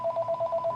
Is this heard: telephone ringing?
yes